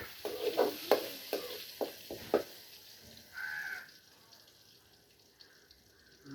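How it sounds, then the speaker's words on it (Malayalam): Mustard seeds, garlic and green chilli fry in hot oil, with a run of sharp sputtering crackles that fades to quiet. A crow caws briefly in the background. "എണ്ണ ഒഴിച്ച് കടുകിട്ട്, വെളുത്തുള്ളി ഇട്ട്, പച്ചമുളകിട്ട്, കായപ്പൊടി ഇട്ട്."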